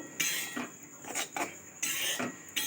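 Spatula scraping and stirring oil cake as it fries in a pan, a series of rasping strokes with short pauses between them, close and moderately loud, no voices.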